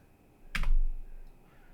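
A short burst of keystrokes on a computer keyboard while entering a reboot command on a Raspberry Pi for a Freenove smart car kit, close and fairly quiet, lasting about half a second, with no talk.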